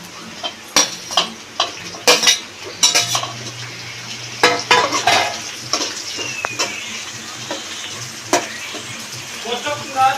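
Onion and green chilli sizzle in a pan as tomato is added for a prawn curry, with repeated sharp clinks and scrapes of a spoon against the pan over a steady frying hiss and a brief low hum.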